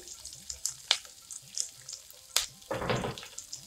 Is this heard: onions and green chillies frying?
yes